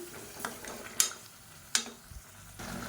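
A spoon stirs chicken gravy masala mixed with water in a cooking pot, giving soft scraping swishes with a couple of sharp clinks against the metal, close and fairly quiet.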